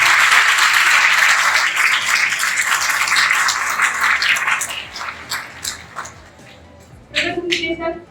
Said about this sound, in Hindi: एक बार जोरदार ताली हो जाए हमारी गर्ल्स के लिए